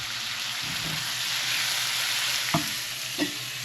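Ground beef sizzles and fries in a pan with a continuous crackling hiss, a few clinks and scrapes of stirring near the end, close and steady with no talk.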